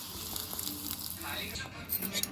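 Steady sizzling of tempering spices and onion frying in hot oil, continuous and close, with a few brighter crackles toward the end.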